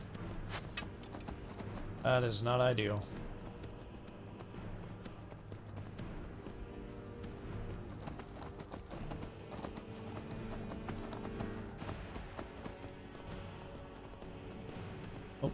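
Horse hooves clip-clop in Skyrim with a short whinny early on, mixed with game music and combat sounds while someone talks over them.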